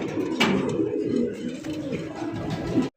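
Fancy and racer pigeons of local and foreign breeds coo steadily and close by, a continuous low burbling that runs through the whole stretch with a few brief higher chirps.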